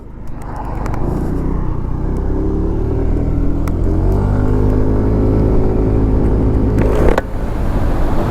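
A Yamaha Majesty 155 S scooter cruises along a road at speed, its engine droning loud and steady with a low rumble and rising pitch as it holds pace, plus a brief dip near the end.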